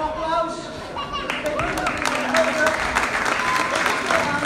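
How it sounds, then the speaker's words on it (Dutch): An audience at a community evening event applauds, the clapping swelling in the second half while voices and background music continue underneath it. "Geef een applaus!"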